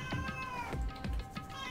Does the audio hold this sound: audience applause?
no